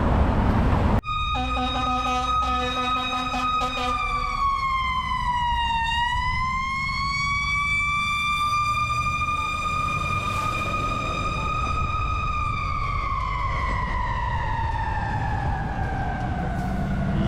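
A fire engine siren wails loudly and steadily close by on the Long Beach waterfront, its pitch sliding down and back up in long sweeps, with traffic rumble underneath.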